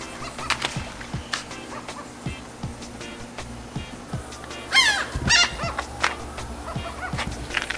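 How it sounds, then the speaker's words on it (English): Seagulls call along the shore in the Florida Keys, a short burst of bird cries rising near the middle over scattered knocks and outdoor background noise. "seagulls aren't annoying"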